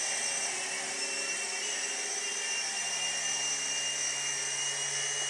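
An indoor RC helicopter hovering nearby, a steady high-pitched whine of small rotors and motor droning evenly with no pauses.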